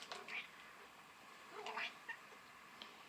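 An elderly cat meows two or three times, close and soft, with short drawn-out cries and a faint hiss of room noise between them.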